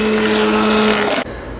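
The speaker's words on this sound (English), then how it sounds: "if you don't have an immersion blender, a whisk will do" An immersion blender whirs loudly through vegan gravy with a steady, high motor whine, then cuts off abruptly, leaving quiet kitchen room tone.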